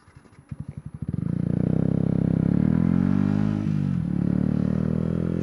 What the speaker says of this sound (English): Stalled the bike there.